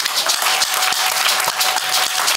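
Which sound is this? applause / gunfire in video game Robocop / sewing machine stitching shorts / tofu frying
applause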